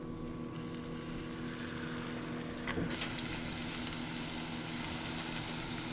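Catfish pieces in batter deep frying in hot oil, a steady low bubbling sizzle with faint hum, no talking.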